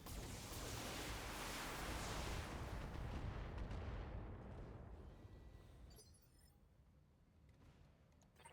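Heavy mech weapons fire in Battletech, a loud roaring blast that swells and slowly fades, followed by a few quieter crackles and impacts.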